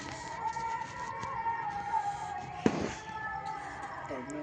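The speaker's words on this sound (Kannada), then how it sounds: "ಎಲ್ಲ ಪಟಾಕಿ ಹೊಡಿಲ್ತಾರೆ ಇಲ್ಲಿ." A single sharp firecracker bang goes off on New Year's Eve amid faint distant pops, with people talking in the background.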